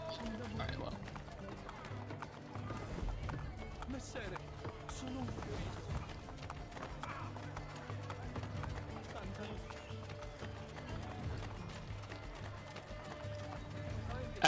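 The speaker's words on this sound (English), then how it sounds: "He's on a horse." A horse gallops in Assassin's Creed Brotherhood, with rapid rhythmic hoofbeats running steadily under a voice talking over the gameplay.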